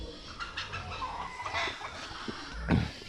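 Native chickens clucking and cackling nearby, a few short calls over light outdoor background noise on a farm.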